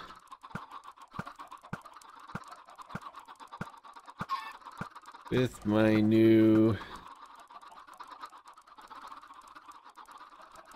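Chickens from a Minecraft RxCraft modpack farm cluck faintly in a regular ticking pattern, then a short loud burst of clucking rises near the middle, with someone talking over the scene.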